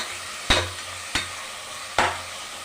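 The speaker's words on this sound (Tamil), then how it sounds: "அந்த 2 தக்காளி போட்டுக்கலாம். இதுவும் நல்லா வதங்கணும்." Sliced tomatoes sautéing in a hot pan for egg biryani, a steady soft sizzle broken by three sharp scrapes of a spoon stirring at roughly even intervals, close and alone.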